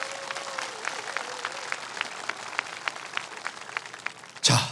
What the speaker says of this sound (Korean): 5 대화랑님께 다시 한번 큰 박수 부탁드리겠습니다.